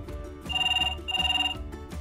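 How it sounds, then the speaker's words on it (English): A VTech Bluey Ring Ring Phone toy plays its electronic ringtone, two loud, bright warbling rings with brief pauses between them, heard alone and close. "Kids can even personalize their playphone with ringtones and background music for more fun."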